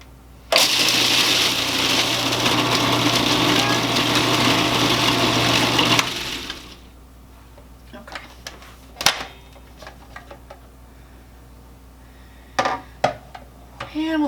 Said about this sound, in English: This usually happens when you turn on the mixer here.